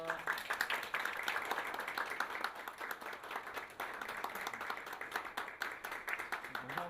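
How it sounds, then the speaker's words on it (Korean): Sustained audience applause at a financial regulator's on-site meeting about illegal private lending support, dense steady clapping from many hands across the whole stretch at moderate level. "박수 한번 부탁드리겠습니다"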